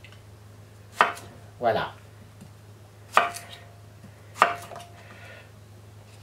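A knife chops a potato into three pieces for fries on a cutting board: four distinct sharp knocks spaced about a second apart, close and crisp, over a low steady hum, with a brief spoken word between.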